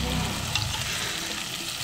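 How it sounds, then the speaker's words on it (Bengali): Egg cooking in a pan outdoors at a village picnic, stirred bit by bit: a close, continuous frying hiss with light scraping strokes, steady and fairly loud throughout. "একটু একটু নেড়ে দিই ডিমটা।"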